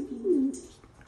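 A racing pigeon gives a single soft, low coo, close by in a quiet setting.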